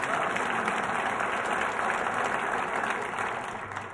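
A rally crowd claps steadily in dense, continuous applause that holds loud throughout and eases slightly at the end, with no speech over it.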